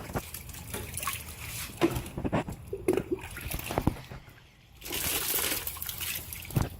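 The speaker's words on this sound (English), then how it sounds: "all I do is I just take a little jar, something to rinse" Water poured from a small jar to rinse a green mat, soft trickling and splashing close by in uneven bursts, with a louder steady pour toward the end.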